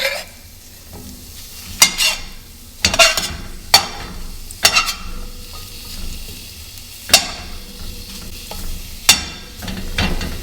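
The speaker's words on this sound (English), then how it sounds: "Okay, let's get these mushrooms in there." Mushrooms sauté in a pan already holding seasonings, a continuous soft sizzle broken every second or so by sharp scrapes and clinks of a utensil stirring against the pan.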